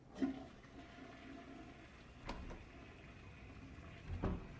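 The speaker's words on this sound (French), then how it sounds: "l'élément qui marque la conclusion de la discussion, la chasse d'eau des toilettes" A toilet flushing in a film scene from No Country for Old Men, a faint, steady rush of water with a couple of soft clunks, heard alone at a distance.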